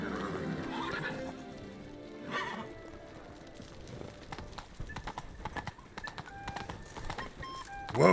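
Roach, Geralt's horse in The Witcher 3, whinnies loudly at the start, then hooves clip-clop in a steady rhythm over ambient game sounds, with a couple of sharper neighs and a final burst near the end.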